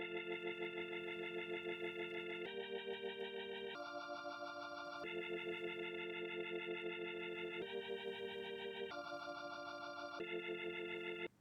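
A sustained organ layer in an FL Studio beat moves through a slow cycle of held chords, each lasting a couple of seconds, with a steady pulsing wobble and a clean cutoff at the end.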